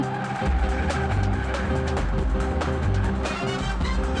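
A car driven fast, its engine roaring steadily with tire squeal and skidding, loud and close and dense, continuous throughout with no pause.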